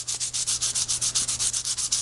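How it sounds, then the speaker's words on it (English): Fine grit sandpaper rubbed back and forth along the front edge of a scale construction model's blade, giving about a dozen quick, even, close scratchy strokes with no talking. "Don't worry, you won't hurt the model with fine grit sandpaper, so you can go ahead and do some sanding."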